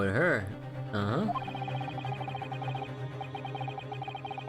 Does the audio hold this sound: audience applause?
no